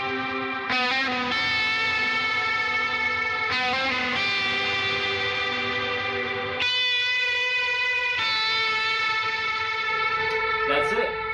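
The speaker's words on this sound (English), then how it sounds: "I'll hit on the overdrive, turn the tremolo off," Electric guitar on the bridge pickup playing a hammer-on riff with overdrive and the tremolo off, its bright distorted notes repeating in phrases every few seconds, loud and upfront with no voices.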